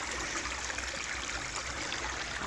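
Water gushes steadily out of the pipe of a small micro hydro plant, a dense hissing splash that stays even and continuous, fairly faint, with no talking.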